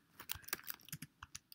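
Typing on a computer keyboard, a quick irregular series of soft, close key clicks, faint and with no one talking.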